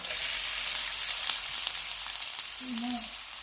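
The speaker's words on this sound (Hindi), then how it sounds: "अब हम इसमें प्याज ऐड करेंगे।" Onions drop into hot oil in a frying pan for tawa chicken kaleji masala, producing a loud, continuous close-up sizzle with brief crackles.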